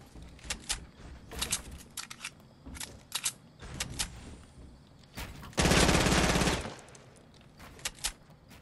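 Gunfire in the Fortnite video game: scattered single shots and short bursts, then one loud, sustained volley of rapid fire that cuts off sharply, with sparser shots after it.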